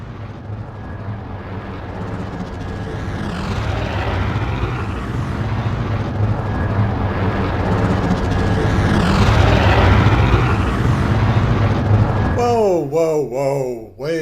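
Flyby of a Razor Crest spaceship, a 3D-printed hand-painted model composited into footage, as a loud droning roar that swells and pans past, followed by sharp warbling sweeps at the end.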